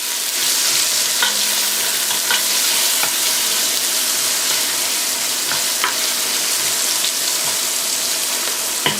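Aromatics sweating in a pot as the base for a lobster and crab stock, giving a steady soft sizzle with occasional light stirring clicks, close and even throughout.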